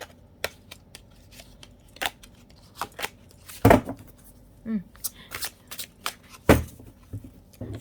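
Oracle cards from a Celebration of Love deck being riffle shuffled, with scattered sharp flicks and a few louder clacks spread unevenly across several seconds, close and fairly quiet.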